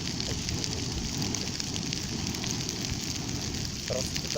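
A campfire burns on grassy pastureland, giving a steady, close crackle and hiss that runs without a break.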